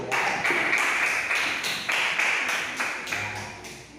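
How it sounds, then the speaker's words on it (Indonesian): A class claps for group 1 after their presentation, a rhythmic series of sharp, evenly spaced unison claps, roughly two per second, fairly close and steady for about four seconds. "Tepuk tangan dulu untuk kelompok 1 ya."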